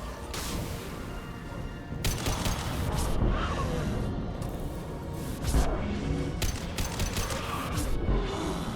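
Gunfire fills a Mass Effect 2 battle: dense, continuous crackling shots and impacts run throughout, with heavier surges of bursts around the second and fifth-to-sixth seconds. No voices are heard.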